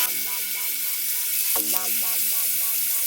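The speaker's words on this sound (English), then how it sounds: "Now I'm ready to start cooking up my vegetables." Shrimp and vegetables fry in butter and grapeseed oil for shrimp fried rice, with a steady, close, crackling sizzle and one brief clatter of stirring partway through.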